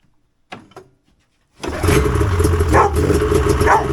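A vintage Polaris RXL barn-find snowmobile engine, primed through the throttle bodies, is pull-started on the rope: a brief rattle of the pull, a short pause, then the engine catches and runs loud and steady at close range.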